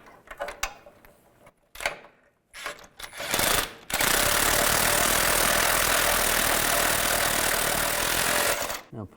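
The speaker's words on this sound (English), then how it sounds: "Now I'm going to put a socket on the other side where the nut is, and then tighten these down" A power tool drives a socket to tighten nuts on a 2002-2009 Chevy Trailblazer engine during timing chain work. Several short taps and clicks come first, then a loud, close, continuous mechanical whir runs for about five seconds.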